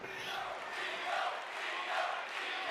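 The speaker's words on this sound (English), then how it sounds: "Crowd very much on Io Sky's side here." Wrestling arena crowd at a women's bout, a sustained broadband roar of cheering and chanting that swells slightly around the middle and end, loud and continuous with no clear talk on top.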